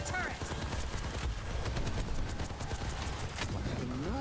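Enemy turret fire in the sci-fi shooter Warframe, with rapid bursts of gunfire crackling steadily under excited talk and occasional synthetic whooshes.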